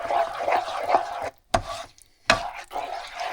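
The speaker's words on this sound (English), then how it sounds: "So you want to stir this up until it's good and smooth." A spoon stirs a creamy garlic sauce in a pan, giving steady scraping and slushing strokes with a soft sizzle, broken by two brief pauses before the stirring resumes.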